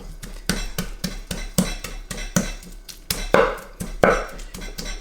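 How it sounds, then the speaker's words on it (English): Garlic clove and six anchovy fillets pounded with a pestle, a close series of sharp, fairly regular knocks and dull thuds, about two per second, some strikes louder than others. "To that we're adding 6 fillets of anchovies, and we're going to just mash that up."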